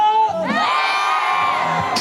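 Stadium crowd at a Korean baseball game, NC Dinos fans in Daejeon, bursts into a loud, sustained shouted cheer after a quick cue, the massed roar holding evenly before a sharp burst at the end.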